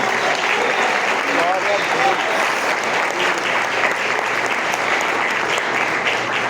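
A congregation at the 1st Congregational church in Itaguaí claps steadily throughout, a dense, even wash of hands at close range with a voice faintly audible beneath it.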